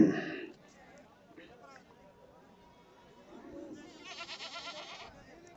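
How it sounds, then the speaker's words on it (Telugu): Goats bleat at a busy weekly livestock market where nearly all the animals for sale are goats, the calls mixed into a steady crowd murmur with people chattering nearby, a louder cluster of bleats rising near the end. "సంత మొత్తం మేకలే ఉన్నాయి ఈరోజు దాదాపుగా"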